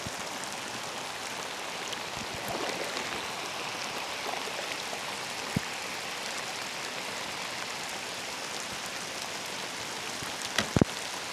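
Cold rain pours steadily during an outdoor fishing trip, a dense continuous hiss of drops striking the surface, with a couple of brief sharp knocks near the end and no talking.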